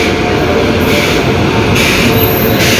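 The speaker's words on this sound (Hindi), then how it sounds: "सामने आके लग रही है हावड़ा नई दिल्ली पूर्वा एक्सप्रेस, जो कि नई दिल्ली से आ रही है और हावड़ा जाएगी।" The Howrah–New Delhi Purva Express pulls into Chittaranjan railway station in Jharkhand with a loud, continuous rolling rumble of wheels and carriages right at hand.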